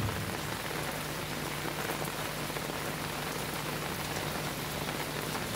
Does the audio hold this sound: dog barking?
no